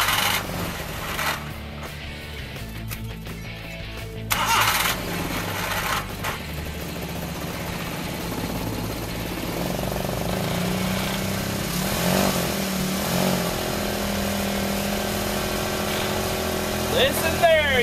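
Suzuki Carry mini truck engine cranking over cold after the fuel is primed, then settling into a steady, close idle that carries on throughout, with some background noise mixed in.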